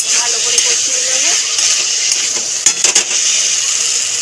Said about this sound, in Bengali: ভালো করে কষিয়ে নেবো।